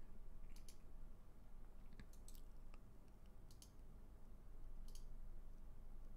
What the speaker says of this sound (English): so we've got to shuffle discard pile into encounter deck